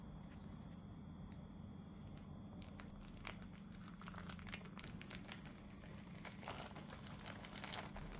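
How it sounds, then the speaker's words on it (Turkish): Parchment paper is slowly peeled off a baked cake, giving faint, steady crinkling and small tearing crackles over a low continuous background hum. "Üzerindeki yağlı kağıdı yavaşça çıkartıyorum"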